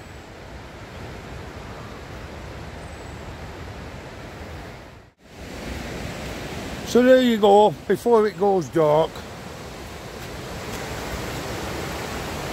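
Fast-flowing river and waterfall at Devil's Bridge, Kirkby Lonsdale, in the evening: a steady, loud rushing roar of water fills the whole scene, with someone speaking briefly over it midway.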